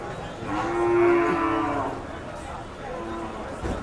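A Khillar cow at a cattle market in Sangola lets out a long, loud moo up close, followed by a shorter, softer low call a moment later.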